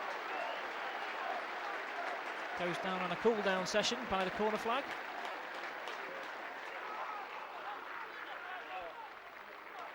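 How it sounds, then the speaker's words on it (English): Chester fans behind the goal applaud Marcus Richardson during a 2005 Chester versus Nottingham Forest football match, a steady crowd clapping that swells briefly midway while a commentator talks over it. "Marcus Richardson receiving the applause of the Chester fans behind the goal"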